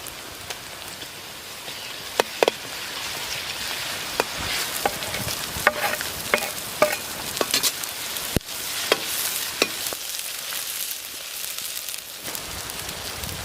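Ginger and garlic fry in a hot pan while pork curry is being cooked, giving a steady close sizzle broken by sharp scraping knocks from stirring, then quieter crackling toward the end.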